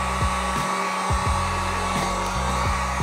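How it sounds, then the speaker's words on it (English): A heat gun blows steadily on vinyl wrap being applied to car interior trim, a constant close airy whoosh with a mechanical hum that carries on without pause. "we're gonna just heat up this a little bit so we can kind of pull it and let it grip"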